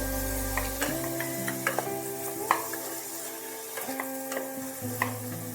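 Tomatoes stirred and fried in a pan while cooking daliya khichdi, a steady close sizzle with repeated scraping stirs and small clinks of the utensil against the pan throughout.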